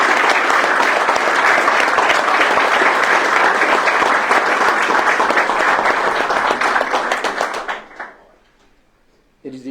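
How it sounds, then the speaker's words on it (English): Sustained applause for retired police officers at a city council meeting, a dense steady round of clapping from a crowd that carries on for about eight seconds before fading out, with a voice returning briefly at the end. "I'd like to give them a round of applause."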